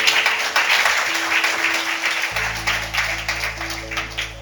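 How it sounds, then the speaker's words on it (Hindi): Steady applause from a church congregation, a dense wash of clapping that carries on throughout with a low hum entering partway. "ताली बजाकर हम स्वागत करें।"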